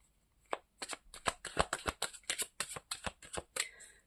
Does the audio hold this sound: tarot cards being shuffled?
yes